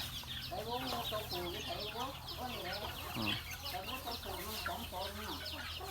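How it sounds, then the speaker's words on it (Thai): Several chickens cluck and chatter continuously outdoors, overlapping calls at moderate distance with a steady low background hum. "ไก่เยอะอยู่นะครับ แต่มันอยู่ในป่าครับไม่ออกมา"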